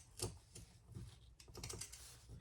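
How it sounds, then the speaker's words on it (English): Pinking shears trim the corners of fabric for a Mini Traveler Sling, giving a few quick, close, crisp snips spread across the moment with a short pause between them. "I'm just going to use some pinking shears. Trim the corners especially."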